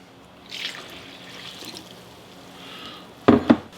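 Three cups of water poured into corn flour for pupusa dough make a soft, quiet trickle early on, then two brief, sharper splashes near the end.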